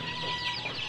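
Chicken clucking loudly and agitatedly after ND La Sota vaccination and two hours of fasting, a short dense burst of excited fowl calls, close by and with no talking.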